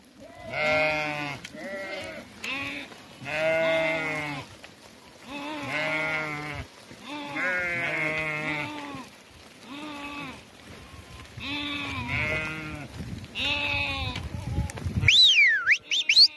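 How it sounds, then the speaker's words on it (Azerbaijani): A black lamb and sheep bleat in a series of loud, close, wavering cries, repeated about every second or two, with a brief whistle-like sound near the end. "Abi qara quzu."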